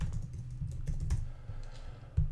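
A search term tapped out on a computer keyboard: a quiet, close run of light keystrokes in an uneven rhythm, ending in a firmer key press, with no voices.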